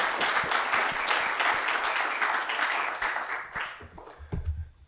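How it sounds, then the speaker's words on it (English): Crowd at a startup pitch event clapping to welcome the next presenter, a full, even burst of applause lasting several seconds, then tapering off into scattered claps and low room noise. "All right, round of applause for our next presenter."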